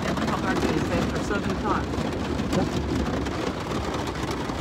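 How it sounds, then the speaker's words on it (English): Steady broadband hiss of rain falling at an amusement park, loud and continuous throughout, with a few faint voices underneath. "It's raining. As you can hear it."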